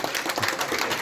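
Round of applause from a rugby league crowd at a London Broncos match for a first-team player, steady dense clapping throughout, fairly loud and continuous.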